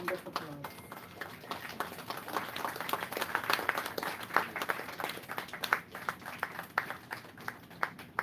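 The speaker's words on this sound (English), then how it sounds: "Please join me in a very warm round of applause." An audience at a hospital book release ceremony for a palliative care textbook applauds, a crisp crowd of clapping hands rising and holding steady with sharper individual claps, while talk carries faintly beneath.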